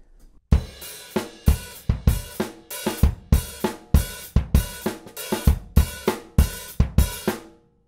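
A steady drum groove, kick and snare with crisp hi-hat hits falling between them on the upbeats, repeating evenly for several bars, loud and close.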